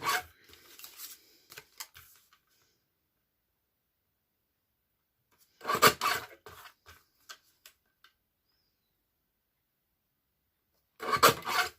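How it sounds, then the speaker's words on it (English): Paper ends are trimmed off handmade cards, heard as three short bursts of close, scratchy rasping and slicing separated by long silent pauses. "I'm just going to trim those ends off."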